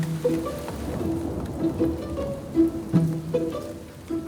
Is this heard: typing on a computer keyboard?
no